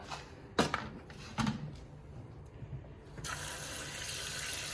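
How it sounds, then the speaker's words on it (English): Water poured into a pot over beans and pickle meat, with a couple of sharp splashes early on, then a steady, fairly quiet gushing stream that continues to the end. "And I'm going to cover with water."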